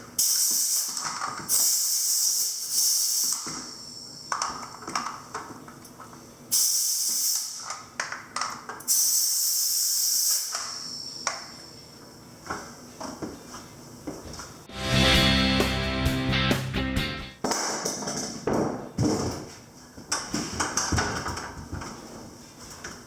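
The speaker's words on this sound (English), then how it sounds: "I'm just nailing a jack stud to another jack stud on a project I'm doing." Hitachi NR90AES1 pneumatic nail gun firing into jack studs, with sharp air hiss bursts and clacks spread irregularly over the span, close and fairly loud, with no talk.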